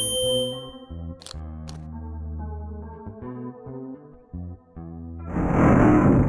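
In a video game, a short sequence of plucked instrument notes plays, then a hidden hideout mechanism in a wall bursts into a loud, rough grinding rush of noise at the end.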